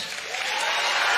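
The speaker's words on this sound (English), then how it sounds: "Clap your hands." Church congregation clapping hands during an energetic sermon, a dense wash of clapping that swells slightly louder toward the end, with crowd noise mixed in.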